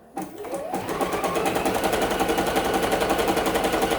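A sewing machine stitches a quilt block, starting up quickly and settling into a fast, even, rattling run of needle strokes that holds steady and close.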